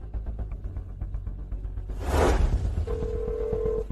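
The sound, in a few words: telephone number being dialed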